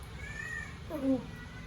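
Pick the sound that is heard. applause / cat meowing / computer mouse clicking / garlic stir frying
cat meowing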